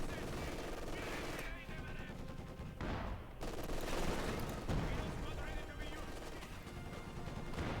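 Company of Heroes 2 gunfire: dense machine-gun bursts and rifle shots crackle continuously, with heavier blasts in a busy battle mix, and a commentator talks over the steady din.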